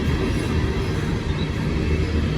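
A train rolls across a high trestle over a city in Kenova, a steady, loud rumble of railroad cars running without a break and with no talk.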